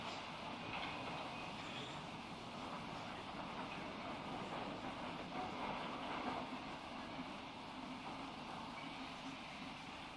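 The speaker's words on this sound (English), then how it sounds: "Finally comes the wiring train." A wiring train of two flat trucks carrying wire drums rolls slowly along a newly electrified railway, giving a steady rumble with faint wheel clatter and squeal, continuous and moderately distant, with no voices.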